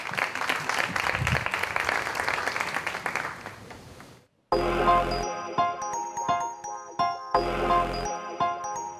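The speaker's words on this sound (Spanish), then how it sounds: "Un fuerte aplauso para Patricia Alzola." Dense audience applause at the Tu-Night 2020 gala final greets Patricia Alzola, a steady wash of many hands that fades away before music begins.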